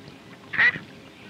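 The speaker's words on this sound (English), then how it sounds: "This big mallard duck looks to be in perfect health" A single loud, nasal mallard duck quack rings out once over quiet outdoor background.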